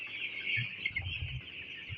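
Young broiler chickens in a winter poultry shed clucking softly, a few low murmuring clucks under a constant high chirping background, fairly quiet and close, with no speech.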